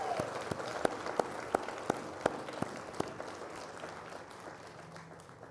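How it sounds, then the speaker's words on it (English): Audience applause at a Woodland Chamber of Commerce gathering in 2022: a round of clapping with a few sharper individual claps that thins out and fades to quiet within about five seconds, heard faint and somewhat distant. "let's give them a big round of applause for all they're doing"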